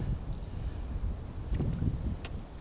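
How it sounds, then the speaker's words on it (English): Steady wind rushing and buffeting a microphone outdoors on the water while bass fishing, a constant low roar with faint rustling and no talk. "and the wind's blowing"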